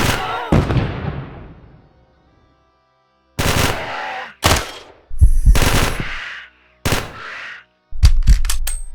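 Loud bursts of automatic gunfire erupt in the Quasimorph video game, an opening volley that fades out, then a series of sharp separate shots and short rapid bursts after a brief pause.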